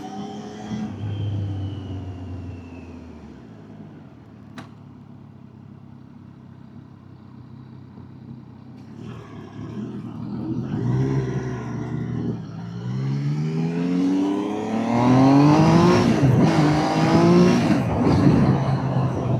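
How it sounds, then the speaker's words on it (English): A 2026 Triumph Trident 800 motorcycle engine opens up and accelerates on the road, starting as a low rumble and climbing into a loud, rising roar with stacked harmonic sweeps as the revs build and gears shift. "when the engine opens up, man, it's rock and roll."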